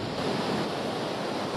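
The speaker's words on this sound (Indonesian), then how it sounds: "Air terjun ini memiliki banyak tingkatan dan cukup keren untuk diabadikan." Depa waterfall in Gowa, South Sulawesi, a multi-tiered fall among tall rock walls, pours with a steady, loud, broadband roar of rushing water that stays constant throughout, with no voices.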